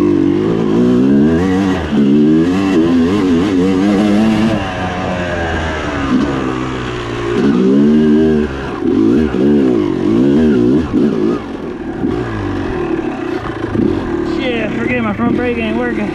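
A motorcycle with a newly replaced, slightly larger fuel line from tank to carburetor revs loudly and close, its engine rising and falling in repeated surges with no break.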